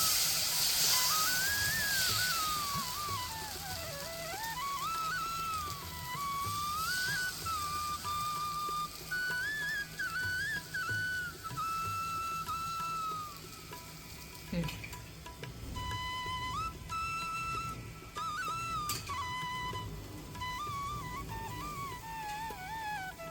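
Rava dosa batter spread over a hot pan gives a long, even sizzling hiss that runs for more than twenty seconds, with a wavering whistle-like melodic tone playing over it throughout.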